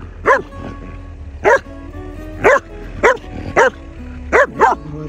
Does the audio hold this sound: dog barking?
yes